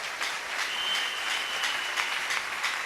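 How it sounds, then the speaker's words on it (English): A church congregation claps for Jesus during a miracle-themed service, a steady wash of hand claps with a few sharper individual claps standing out, moderately loud and continuous over roughly three seconds, with no one speaking. "Applaudissez pour Jésus."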